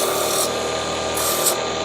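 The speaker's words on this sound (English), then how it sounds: "what we're gonna do is come over to the sanding disc" A steady, dense rasping whir of an abrasive disc grinding against wood, continuous and fairly loud with no talking.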